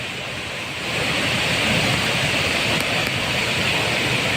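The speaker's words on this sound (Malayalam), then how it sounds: "അത് ഇപ്പോഴും പുഴയിൽ കുത്തിയൊഴുക്കുണ്ട്." Steady, roaring rush of a swollen river's fast current at Chooralmala fills the scene, a broad continuous wash that swells slightly louder after the first second, with no voices.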